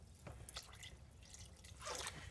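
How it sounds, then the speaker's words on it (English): Bottled spring water pouring into a soup pot, heard as a steady close trickle and splash that swells louder near the end, with no talking. "now I'm going to add the water"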